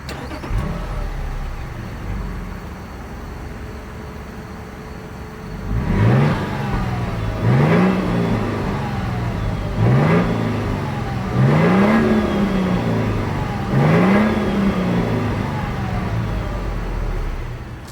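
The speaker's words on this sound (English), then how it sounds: "As always, here is that exhaust clip." A 2026 Toyota Sequoia large off-road SUV revs its exhaust: an idle rumble, then five rising and falling rev blips spaced about two seconds apart, loud and close, with no talking.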